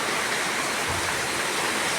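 Loud, dense rushing noise of typhoon rain and gusting wind roars without a break, close and overwhelming.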